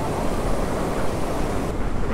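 Sea surf breaks on a beach at Ganpatipule in the Konkan region during monsoon rain, a steady, loud wash of waves with wind noise buffeting the microphone and no voices.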